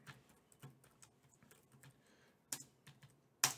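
Computer keyboard typing while writing Python code, scattered close key clicks in uneven bursts, with a louder sharp keystroke at the end.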